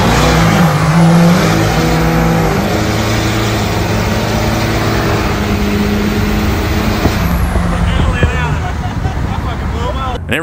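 A Ford F250 OBS truck with a 7.3 engine runs nearby, a loud, steady, throaty rumble that holds without pause throughout.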